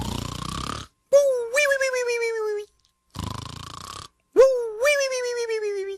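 Two loud cartoonish snores, each a long rattling inhale followed by a rising, whistling exhale, separated by brief silence.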